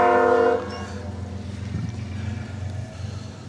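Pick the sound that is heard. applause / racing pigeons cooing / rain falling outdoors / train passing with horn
train passing with horn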